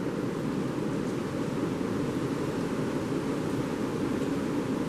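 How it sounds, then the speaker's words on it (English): Strong wind roars steadily through the woods on a gusty April day, a dense, unbroken rush of noise at constant loudness with no voices. "the wind is howling today"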